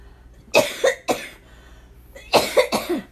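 Several sharp coughs in two clusters, close and fairly loud, with a short quiet pause between them.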